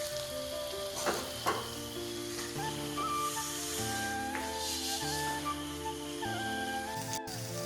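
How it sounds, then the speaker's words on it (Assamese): Food sizzles and crackles steadily in hot oil in a wok while cooking chow mein, with occasional pops and stirring sounds over a sustained musical background. "এতিয়া এইখিনি ধুনীয়াকৈ অলপ ফ্ৰাই কৰোঁ"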